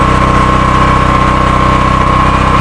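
Engine on a softwash skid running steadily at close range, a loud, continuous idle hum with an even low pulse and a constant tonal whine, no voices.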